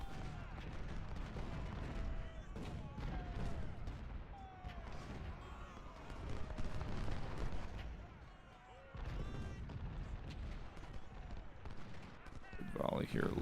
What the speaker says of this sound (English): Good volley here, Lewis.